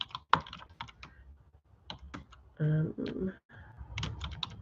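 Typing on a computer keyboard, a spray of quick, close key clicks in short uneven bursts, with a person speaking briefly in the middle.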